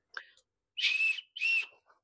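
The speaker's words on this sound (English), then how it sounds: "it allows you to whistle for help if you are in danger" A safety whistle attached to a waterproof bag gives a short chirp, then two longer, piercing shrill blasts in quick succession, close and loud with nothing else around.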